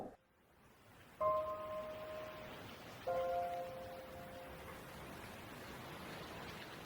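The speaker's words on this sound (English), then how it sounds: "it's been raining all day, but I love it when it rains" Rain falls steadily outside an open window as a soft, constant hiss. Two brief ringing tones rise above it partway through.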